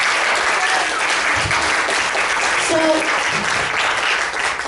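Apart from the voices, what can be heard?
applause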